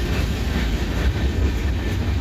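Empty freight cars that carried corn products roll past close by, a steady heavy rumble of wheels and rail noise that stays loud throughout, with no talking.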